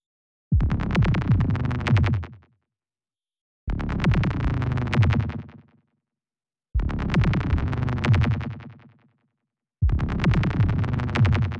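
A Devious Machines Infiltrator plugin effect with its delay feedback turned up: four loud processed bursts in an even rhythm, each ringing out and decaying before a short silence, with no talking.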